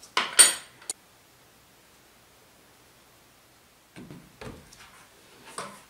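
Blue bubble-gum flavoured cream being mixed in a bowl for a rainbow cake: a few close, sharp utensil clinks at the start, a long quiet gap, then softer scraping and stirring near the end.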